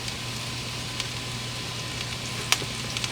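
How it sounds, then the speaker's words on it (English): Diced onion with salt sautés in a pan, a soft continuous sizzle and crackle with a few faint clicks, heard alone without speech. "our onions are starting to brown, so they're getting a little aromatic"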